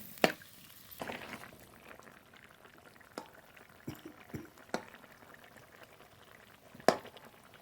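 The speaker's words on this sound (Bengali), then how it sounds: "জল এবার খুব ভালো করে জাল দিয়ে নেবো" Potatoes and cauliflower boiling in spiced water in a pot, a faint, quiet bubbling broken by a few sparse pops and splashes, with no voices.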